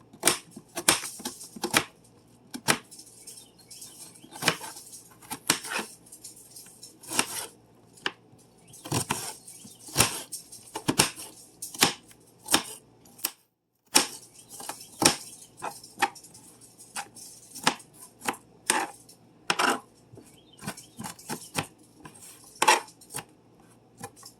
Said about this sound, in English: Now we're going to go ahead and cut the onion